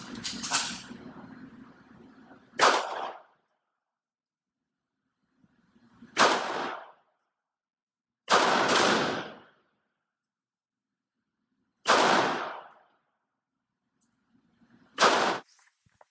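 Taurus GX4 pistol fired live, five sharp, loud gunshots spaced a couple of seconds apart, each with a short ringing decay into near silence, with no voices between them.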